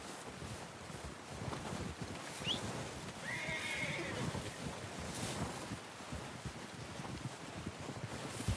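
A horse in the video game Red Dead Redemption 2 gives a single whinny in the middle of steady outdoor wind and hoof clops, with no talking.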